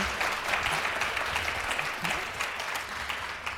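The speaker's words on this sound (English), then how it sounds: "can we give another round of applause to Dr." Steady audience applause for a speaker after a health talk, moderately faint and even throughout the short stretch, with no voices standing out.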